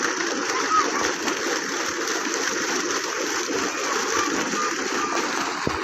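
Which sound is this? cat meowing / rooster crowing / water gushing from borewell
water gushing from borewell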